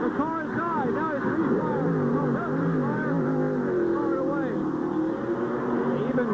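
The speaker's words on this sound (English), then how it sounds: "If you hear the car revving" A loud, continuous race car engine roars and revs throughout at the 1990 Peak 500, with rising and falling pitch sweeps before stalling, under a steady background of crowd-like noise.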